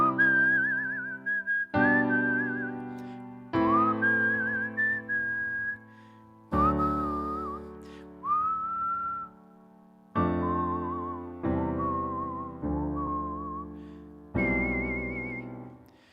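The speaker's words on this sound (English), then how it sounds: "I haven't whistled through my teeth in such a long time" Someone whistles through their teeth, a halting tune in short phrases, each note sliding and wavering, with brief pauses between phrases and no talking.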